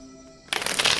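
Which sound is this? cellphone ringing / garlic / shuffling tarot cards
shuffling tarot cards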